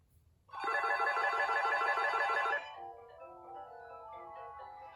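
Telephone ringing during a ring back test on a Bell line with a Sonecor caller ID box, one loud electronic ring burst of about two seconds, then a fainter tonal trill, close and alone.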